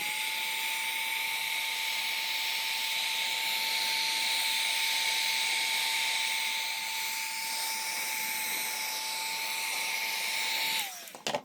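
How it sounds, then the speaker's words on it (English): A heat gun warms the sealant on a Subaru Legacy headlight, giving a steady blowing hiss with a constant whining tone that holds for about eleven seconds, then cuts off abruptly. "So I'm going to take my heat gun, heat that up, crack the lights open"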